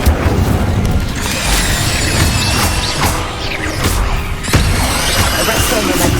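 An Incendio fire spell cast in Hogwarts Legacy, loud whooshing bursts and booming crackles amid dense combat noise, with several sharp impacts in close succession.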